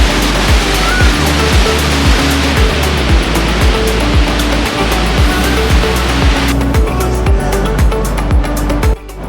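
Loud, close surf breaking on an Oregon coast beach, a constant heavy roar of churning water with repeated sharp thuds and buffeting, likely wind, before easing slightly near the end.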